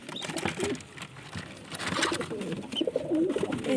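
Domestic pigeons coo softly in a loft where they are nesting on eggs, several low murmuring calls overlapping close by with a faint background bustle and no talking.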